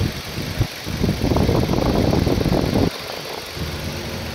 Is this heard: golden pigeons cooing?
no